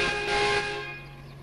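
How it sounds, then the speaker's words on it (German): Horn of a Mercedes-Benz O321 HI bus in the OMSI 2 driving simulator, one loud sustained tonal blast that rings briefly and then decays. "Die Hupe hört man."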